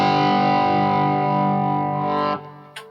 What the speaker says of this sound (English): And then we have the Fire Breather bridge pickup.